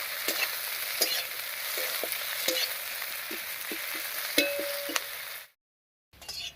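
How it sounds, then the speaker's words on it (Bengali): Steady hiss and sizzle of onion and green chili frying in hot oil until browned, with a spatula scraping and stirring now and then, before the sound abruptly cuts out. "এবারে পেঁয়াজ আর লঙ্কাটাকে বেশ লাল লাল করে ভেজে নেব"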